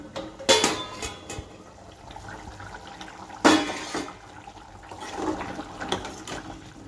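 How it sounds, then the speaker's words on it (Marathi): A lid lifted off a cooking pot of drumstick (shevga) curry on the stove: a sharp metallic clatter near the start, then another clang midway, with faint liquid and utensil sounds between. "आपण बघूया भाजी झाली का झाकण काढून घेते मी"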